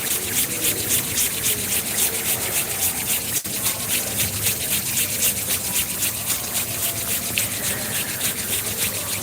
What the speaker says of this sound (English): begin to rub your palms together in a circular motion